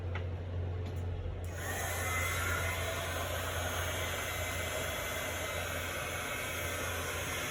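A heat tool switches on and blows hot air for card making, a steady whooshing hiss that starts after a brief quiet moment and continues evenly close by.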